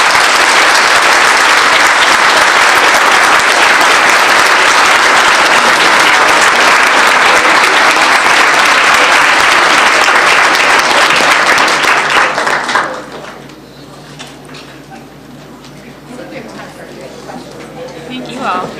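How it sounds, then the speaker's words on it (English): A room full of people gives a loud, sustained round of applause to the guests of an alumni panel discussion. The clapping lasts about twelve seconds, then drops off sharply into a quiet room. "I think they deserve a round of applause."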